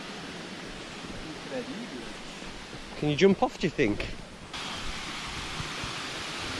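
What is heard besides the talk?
waterfall pouring into a pool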